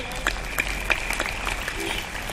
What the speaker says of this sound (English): let us once again give them a good round of applause